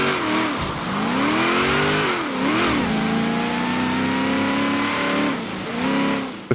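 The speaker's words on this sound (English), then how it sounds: "Just hear my supercharger whining, or winding, however you want to say it." A supercharged race car in Forza Horizon 3, on a Byron Bay rainforest championship course, drones loudly and continuously, its engine whine rising and falling as it shifts and accelerates, with no talk.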